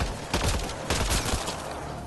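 Gunfire from enemies in the video game Mass Effect Andromeda, a dense rapid volley of shots in two bursts, loud and close, with no talk over it.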